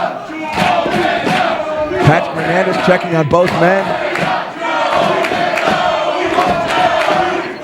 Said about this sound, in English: The crowd split 50-50 cheering for Omega, cheering for Joey